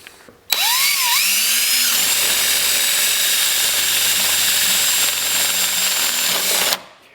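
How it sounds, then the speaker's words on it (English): A power drill bores through 4-inch poly pipe while building a fish attractor structure. The motor rises quickly to a loud, steady whine that holds for about six seconds before cutting off. "I drilled through one side of the pipe"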